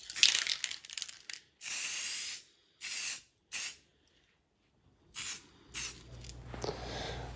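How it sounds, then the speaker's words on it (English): A spray can of matte lacquer sprays in several short, close hissing bursts separated by pauses, followed by faint rattling. "I'll spray it and shake it, spray it and shake it"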